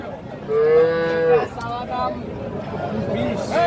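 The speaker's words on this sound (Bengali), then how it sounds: "রাব্বি কয়টা বাছুর আছে চারটা বকনা" Young cattle calves and heifers mooing at a livestock market, a loud drawn-out moo up close followed by further lower lowing, with crowd chatter and voices around.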